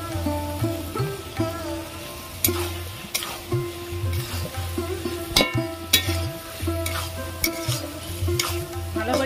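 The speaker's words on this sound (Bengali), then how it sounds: "ভালো করে কষিয়ে নেব" Potatoes frying in goat fat for ghugni, stirred continuously in a pan with repeated metallic scrapes and knocks over a constant sizzle and a low hum, loud and close.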